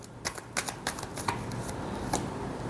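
A deck of tarot cards is shuffled close up in a soft, quiet run of riffling flutters and taps, with a few sharper card snaps spread unevenly and no voice heard.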